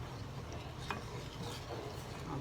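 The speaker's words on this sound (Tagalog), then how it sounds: "just stir it constantly" Biko sticky rice being stirred in a pot, a soft continuous scraping and thick swishing with faint bubbling, quiet and close.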